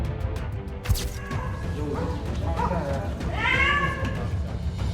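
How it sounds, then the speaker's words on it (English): A cat meows plaintively for help several times, with a thin, faint voice and a clear drawn-out cry near the end, over a low background hum. "A cat begged people to help and was heard."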